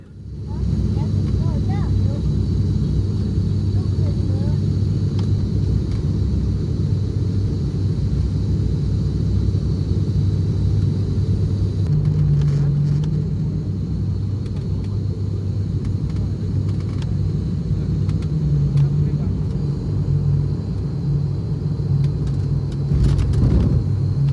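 Inside an SAS Airbus A320 descending toward Aarhus, a loud, steady low cabin roar of engines and airflow fills the whole stretch, with faint clicks and small shifts in pitch.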